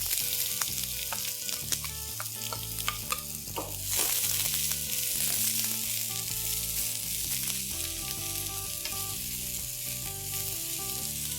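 Three shredded onions frying in hot oil with broken chilies, a continuous crackling sizzle with scattered pops, steady and close, with a brief louder burst partway through.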